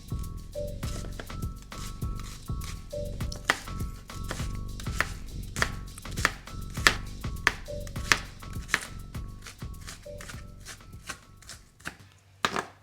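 Half an onion chopped with a knife on a board, a rapid run of crisp, close taps in a steady rhythm with brief pauses, clear and alone.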